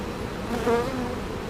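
Honeybees buzz around an opened hive during an inspection, a close, wavering drone that swells briefly as one bee passes near.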